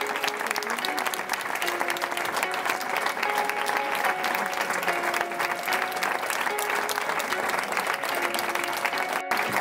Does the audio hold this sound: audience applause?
yes